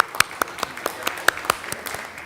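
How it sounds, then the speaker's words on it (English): A few people at a conference event give sparse, uneven claps, distinct sharp hand slaps spaced irregularly over a faint background. "A round of applause for Iberdola for joining the pact."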